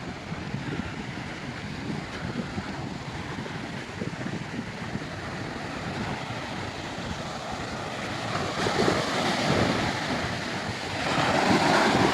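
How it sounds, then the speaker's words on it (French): Steady wind and breaking waves on a beach in Spain, a continuous broadband roar with gusty wind noise on the microphone that swells louder toward the end, no voices. "Mais plage très agréable également, et vent très agréable également."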